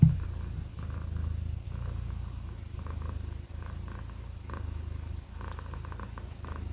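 A cat purrs steadily and close, a continuous low rumbling with a regular in-and-out breathing rhythm, alone with no talk over it.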